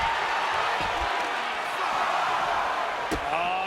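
A wrestling crowd cheering and roaring continuously at a live indoor match, forming a loud, steady wash of noise, with a commentator talking over it and a sharp thud near the end.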